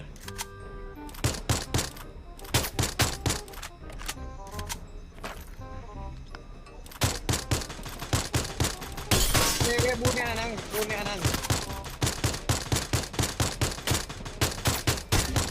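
Gunfire in the Free Fire battle game comes as repeated sharp bursts and single shots, loud and close, with rapid clusters of rounds and short pauses between volleys.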